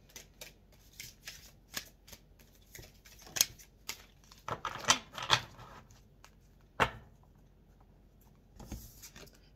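Tarot cards are shuffled in quick, crisp riffling bursts, close and fairly quiet, with short pauses between the flurries of snapping card edges.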